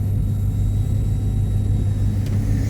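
A self-driving car moves along a city street, heard as a loud, steady low rumble of road and engine noise with no clear rise or fall.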